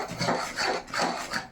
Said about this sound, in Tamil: கிண்டிக்கிட்டே இருக்க வேண்டியதான் டைட்டாக ஆரம்பிக்கும்.